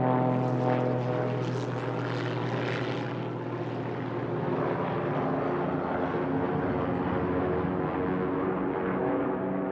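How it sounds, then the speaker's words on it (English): Stuka dive bombers in an attack: a heavy, steady propeller-engine roar, loud and close throughout, with a dense rumbling drone and no voices. "Then came mind-numbing dive bomb attacks by the Stukas"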